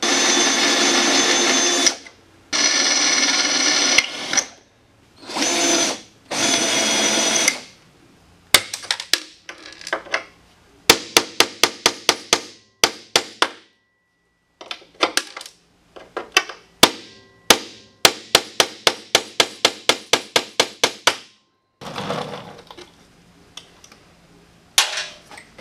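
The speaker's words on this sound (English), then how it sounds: "So let's get those drilled and pull this off." Rivets are drilled out of a crashed snowmobile chassis, with a loud close power drill whirring in several long bursts followed by rapid sharp cracking and snapping as the rivet heads break free.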